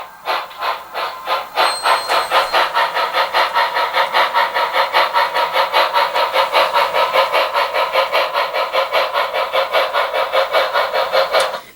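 Bachmann Spectrum 2-8-0 HO scale model steam locomotive with DCC sound, giving a steady rhythmic chuffing exhaust beat that holds an even, fast cadence throughout, with a brief whistle-like tone near the start and no talking.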